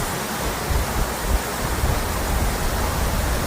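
Roadside waterfall in the Spiti and Himachal mountains, heard as a steady, loud broadband rush of falling water that fills the whole clip without a break and with no voices over it.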